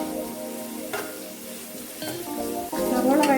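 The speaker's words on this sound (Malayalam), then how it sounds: "നമുക്ക് സവോള നല്ലപോലെ ഒരു പകുതി കുറച്ച് വഴറ്റാവേ." Sliced onions sauté in hot oil in a pan for a botti fry, giving a steady close sizzle with scraping stir strokes over it and no talking.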